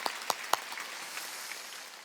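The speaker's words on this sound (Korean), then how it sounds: "하나님께 박수 주세요." Church congregation at a Wednesday service claps for God, beginning with a few distinct loud claps before settling into a soft, faint spattering of applause.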